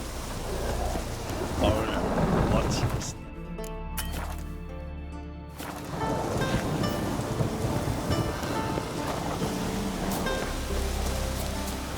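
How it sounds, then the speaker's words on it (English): Rain pours steadily in the game The Witcher 3, with a low rumble of thunder rolling in partway through and a sustained musical tone briefly rising above the downpour. "Oh, raining again."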